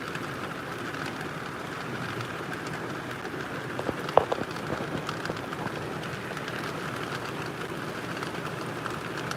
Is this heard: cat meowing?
no